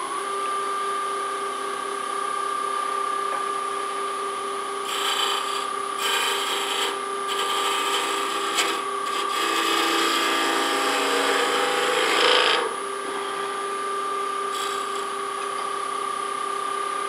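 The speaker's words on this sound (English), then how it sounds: "Now a little sandpaper, and I'm gonna finish that up." Sandpaper rubbing against a small wooden baseball bat spinning on a wood lathe, a steady close rasping hiss over the lathe's constant whine, with louder bursts of sanding in the middle before it eases back.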